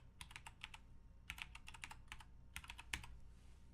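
A password is typed on a computer keyboard in short clusters of quiet, crisp keystrokes separated by brief pauses, close and alone with no talking.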